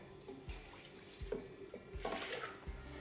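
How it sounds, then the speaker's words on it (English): Water is poured from a cup into a pressure cooker holding tur dal, three cups for every cup of lentils, splashing and gurgling close by in uneven bursts with no talking. "Then add for 1 cup dal 3 cups of water."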